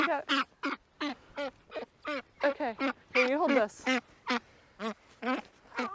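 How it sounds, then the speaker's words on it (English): A small duck being handled on a rural homestead quacks in a quick, repeated series of close, nasal calls while people talk nearby. "Hey, little duck. It's okay, little duck."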